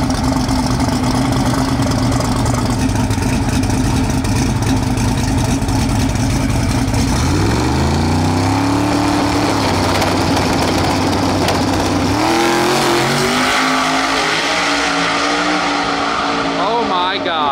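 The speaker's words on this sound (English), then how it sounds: "Man, I love his burnout on a 275." A drag race car on 275 tires roars through a burnout, its loud engine holding a high rev, then dropping and climbing again in sweeping pitch changes while people talk excitedly over it.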